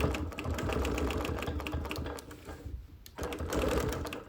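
Sewing machine quilting contrasting thread around hexagon patches on dark fabric, a steady rapid mechanical stitching rhythm that runs close and loud, pauses briefly, then resumes.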